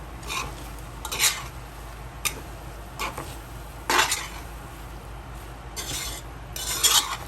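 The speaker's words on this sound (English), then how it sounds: "And we're gonna combine this, mix everything in." Lamb pieces being stirred together with their juices in a pot for biryani, producing intermittent scraping and clinking bursts of a spoon against metal over a low steady background hum.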